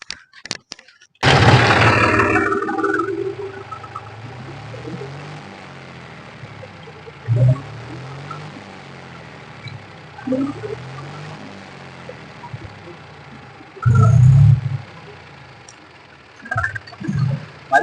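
A John Deere 5045D tractor cranks and fires abruptly, then settles into a steady, low, chugging diesel idle at close range, with a few brief louder bumps and clatters along the way.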